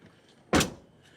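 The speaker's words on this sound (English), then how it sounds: "I don't know if y'all heard that click. That was actually it clicking." A single solid thud of a Ram 1500 pickup truck door shutting with a click, close and sharp, followed by quiet.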